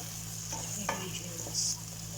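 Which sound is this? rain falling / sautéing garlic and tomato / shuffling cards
sautéing garlic and tomato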